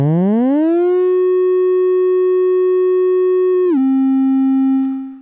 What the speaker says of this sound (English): So that's the triangle not being modulated.